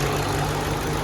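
A 2005 Ford Mustang GT with a 5-speed manual idles close by, a steady, loud low rumble with an even throb and no voices over it.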